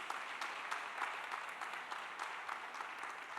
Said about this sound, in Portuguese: vamos dar uma salva de palmas para Jesus.